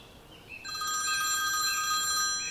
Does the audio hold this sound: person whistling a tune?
no